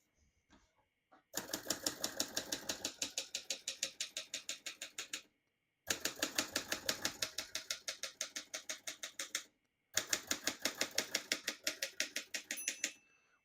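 Rapid clacking keystrokes on a 1960s Forto vintage portable typewriter, three close, steady bursts of even typing separated by brief pauses.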